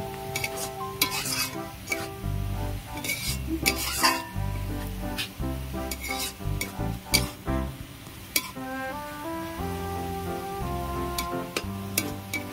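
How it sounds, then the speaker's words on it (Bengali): Onions frying into crisp beresta for chicken kacchi biryani, stirred steadily in a pan: a close, loud sizzle under repeated rhythmic scraping and light metallic clinks of the spoon, with no voices. "এইভাবে এক নিয়মে নেড়ে যেতে হবে বেরেস্তা"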